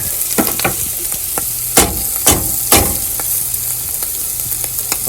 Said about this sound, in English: Oh, that sizzle is so good.